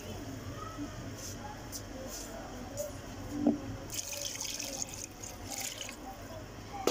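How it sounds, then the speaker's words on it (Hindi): About three glasses of water splash and trickle into a cooking pot of turnip and beef to make broth, with a few small clinks and bursts of pouring toward the end. "अब इसके अंदर शोरबा बनाएंगे यानी पानी डालेंगे।"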